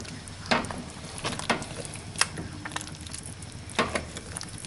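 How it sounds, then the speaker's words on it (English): Meat spaghetti sauce simmering on low in a pot, stirred with a spoon that gives a few distinct scrapes and knocks over a soft bubbling sizzle, close by with no talking. "The reason you want to stir it is just to get a feel for the texture and also make sure that nothing sticks to the bottom"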